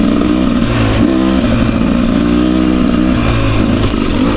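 A 2024 Beta 300 RR Race Edition dirt bike revs loud and close on a single-track trail, its two-stroke engine note rising and falling steadily with no speech.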